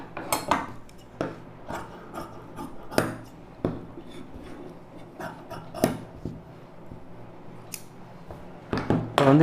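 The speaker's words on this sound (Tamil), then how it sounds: "இப்போ இதை கட் பண்ணி எடுத்துக்கலாம்." Scissors snip through blouse lining fabric in a string of sharp, close, crisp cuts with short pauses between them, and a heavier clatter near the end. No one speaks.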